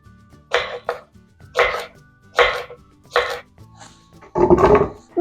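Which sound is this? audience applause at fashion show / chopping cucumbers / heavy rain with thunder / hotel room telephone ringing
chopping cucumbers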